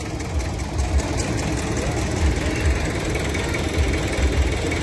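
Tractor engines idle at a farmer protest gathering in Sirhind, Fatehgarh Sahib, making a continuous loud diesel rumble with uneven low thumping and no clear speech.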